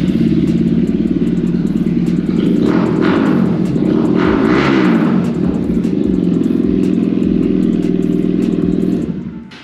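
A Lexmoto LXR motorcycle running after a cold start, its single engine chugging in a steady loud idle at close range, with a brief rise in revs partway through before it settles and fades at the end.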